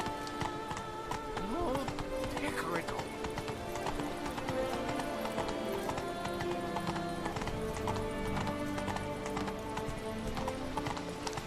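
Hooves of Roach, a horse in The Witcher 3, clip-clop in a steady running rhythm throughout, with a brief whinny near the start, under game music and ambience.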